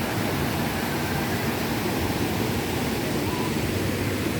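Fast-flowing river water at a wading spot where a rope is strung across, a dense, continuous rushing hiss that stays loud and even throughout, heard up close with no talking over it.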